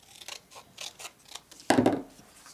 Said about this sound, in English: you're just going to cut this off here